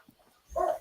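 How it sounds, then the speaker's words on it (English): Several dogs bark indoors in a short, moderately loud burst that rises midway after near silence. "I don't know what they's barking at."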